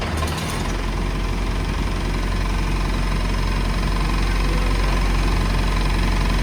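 Mazda Miata engine idling close by with a steady low rumble and a persistent rattling knock from its competition clutch, with no talking.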